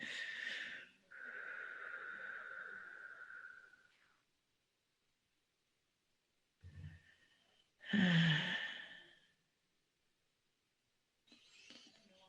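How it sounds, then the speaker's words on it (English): Deep breaths during a guided meditation, a few slow, audible inhales and exhales that are close and soft, separated by silent pauses. "And again, take a deep breath."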